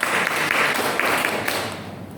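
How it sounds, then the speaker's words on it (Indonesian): Applause from a church congregation during a Pentecostal sermon, a full burst of clapping that starts loud and fades slightly toward the end, with no talk over it. "Tepuk tangan dulu."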